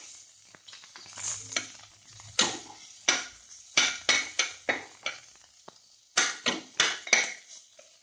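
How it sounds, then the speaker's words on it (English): Garlic and chili fry in a pan for peanut chutney while a spoon scrapes and stirs in quick, sharp strokes, coming in rhythmic bursts over a faint sizzle with no talking. "mix well, fry for some time"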